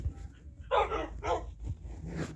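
Dogs bark, wolves fighting alongside the player in a dragon-ruler video game, giving two loud close barks followed by softer yips and a whimper.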